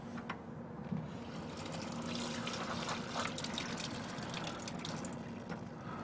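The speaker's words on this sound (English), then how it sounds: "you can rinse off the solution" Jewelry being rinsed of ultrasonic cleaning solution under running water, a steady close splashing trickle with small gurgles throughout.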